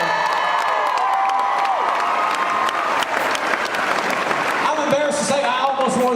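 A crowd at an outdoor tornado relief concert applauds and cheers loudly for cheerleaders, with dense continuous clapping, whoops and shouts filling the space, and a voice speaking over it.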